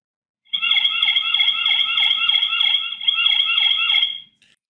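An Onwote OW5 5MP wireless solar rechargeable security camera sounds its audio warning siren, a loud, steady wailing electronic tone that rises and falls rhythmically for about four seconds, close by and without talk.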